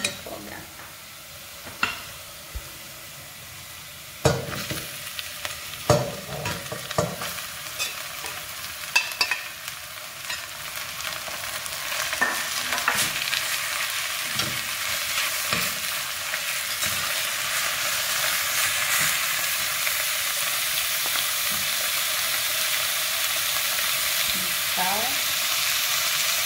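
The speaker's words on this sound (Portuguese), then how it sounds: "já vou colocar a carne para refogar" Ground meat sizzles in a pan with onions for lasagna, with scattered stirring clacks early on, then a steady broadband frying hiss that grows fuller and holds through the end.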